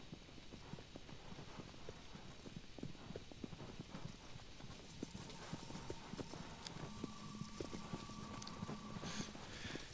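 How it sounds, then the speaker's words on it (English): Rapid hoofbeats of a horse galloping in the video game Shadow of the Colossus, a steady clip-clop rhythm that stays faint and even throughout, with no talk over it. "I will trade you for a different horse."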